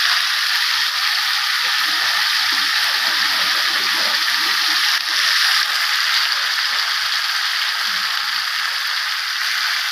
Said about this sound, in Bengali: একটুখানি রসুন বাটা দিয়ে দিলাম